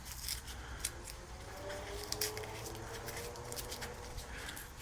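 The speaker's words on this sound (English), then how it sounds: "First I snip off the roots, cut off the top, peel back maybe the top layer" Scissors snip the roots off a freshly harvested garlic bulb, a few crisp cuts sounding close by over a steady, noisy outdoor background.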